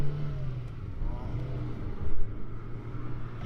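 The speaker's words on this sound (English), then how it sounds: "Now these little 16 valve engines, they rev up." A second-generation Nissan Micra's small 16-valve engine revs and hums from inside the car, a low steady drone with a brief swell, moderately quiet.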